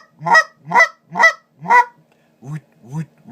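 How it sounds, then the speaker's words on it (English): A Basin Calls BigShot goose honker call, blown by hand, gives four loud, evenly spaced cluck honks that break high, then three softer, lower honks, all close and clear with no talk. "that's your basic sort of a cluck honk sound"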